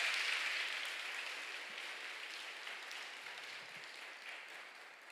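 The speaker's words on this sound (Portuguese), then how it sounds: "Pode aplaudir, pode aplaudir, pode aplaudir." A church audience at a Catholic sermon gives sustained applause, a dense broadband patter that stays steady and fairly loud, then tapers slightly toward the end with no voices over it.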